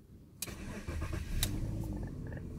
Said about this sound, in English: I can off this and get back in to start the car